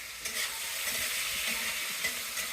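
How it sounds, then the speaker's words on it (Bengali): Onion and bay leaves fry in hot oil in a wok for meat cooking, giving a loud, steady sizzle close by with soft stirring scrapes and no talking. "মাংস রান্নার জন্য কড়াই তেল দিয়ে তেজপাতা আর পেঁয়াজ দিয়ে দিলাম।"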